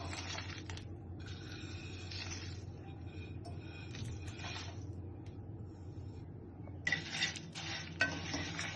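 Whole biryani spices and bay leaves dry-roast in a pan, with faint, close scraping and stirring strokes that come in short bursts over a quiet, steady background.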